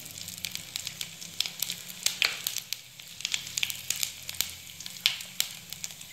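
Cumin seeds and asafoetida spit and crackle in a spoonful of hot oil in a pan, a steady close sizzle scattered with sharp pops and no talking.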